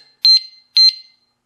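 Alarmed motorcycle disc brake lock giving its warning when moved, two loud, shrill electronic chirps in quick succession, close and isolated.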